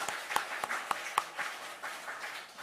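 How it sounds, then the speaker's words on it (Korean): Congregation at a Sunday church service giving a short round of applause, scattered distinct hand claps over a soft patter that continues to the end. "은혜 주시는 하나님께 또 예수신 우리 모두에게 감사의 박수 드리겠습니다"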